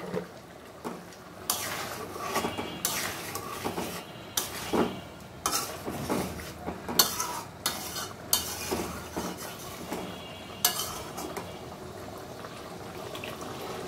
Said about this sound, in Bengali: দেখো ডিমের ঝোলটা ফুটে উঠছে